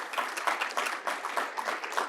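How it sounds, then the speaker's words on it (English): An audience applauds at a presidential address, a steady dense patter of many hands clapping for a couple of seconds, alone and evenly loud throughout. "She definitely deserves some applause"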